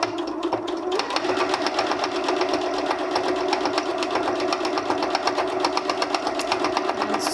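A sewing machine stitches a fabric microwaveable bowl cozy, running steadily and alone at close range with a rapid, continuous mechanical whir that holds the same pace throughout.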